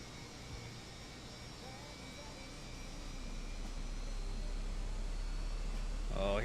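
In the MSFS 2024 flight simulator, an aircraft engine spools up into a low, steadily building rumble, faint and continuous, with a rising whine near the end.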